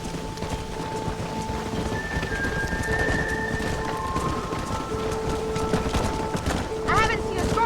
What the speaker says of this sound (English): I haven't seen a storm like this for a while.